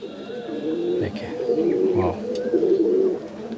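Andhra and Fulsira breed pigeons coo in low, rounded pulses close by, while someone talks over them and briefly exclaims in admiration.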